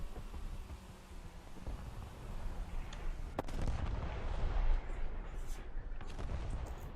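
Distant gunfire and explosive booms from War Thunder combat, irregular thumps and cracks over a low rumbling battle background, fairly faint.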